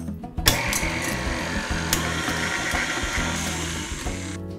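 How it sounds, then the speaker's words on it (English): An electric stand mixer creams butter for root beer float sandwich cookies, a steady close motor whir with a rhythmic mechanical chatter running throughout, starting abruptly after a brief pause and cutting off near the end. "In with our butter, and just turn on your mixer."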